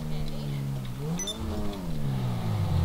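Car engine humming and revving while driving in Grand Theft Auto V, rising in pitch as it accelerates, heard under someone talking.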